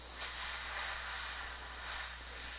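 Aerosol spray aimed at a hot tub controller gives a steady, close hiss that runs continuously for the whole stretch without pause.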